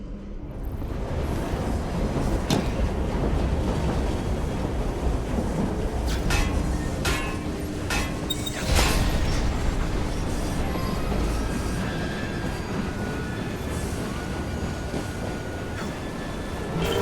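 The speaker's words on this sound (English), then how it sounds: "Detach the locomotive." A locomotive train running in the video game Assassin's Creed Syndicate, a loud, steady rumbling roar with rattling clanks and occasional sharp metallic hits throughout.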